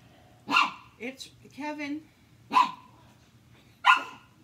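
Dogs bark a few times in sharp, separate bursts, close by, interleaved with a person speaking in a quiet indoor setting.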